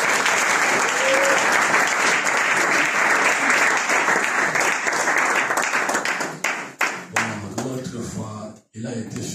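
A church congregation at a Sunday service applauds the King of Kings with sustained, dense clapping that fills the room, then thins out and breaks off near the end as a voice speaks.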